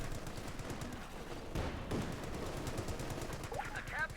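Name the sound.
heavy machine gun fire in video game Company of Heroes 2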